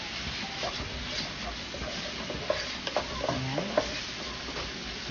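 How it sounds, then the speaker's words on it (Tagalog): Chopped onion sautéing in a very small amount of cooking oil for a pork and eggplant omelette dish: a steady soft sizzle with scraping stirs and a few light clinks, plus a brief spoken word. "Igigisa lang natin tong ating mga ingredients"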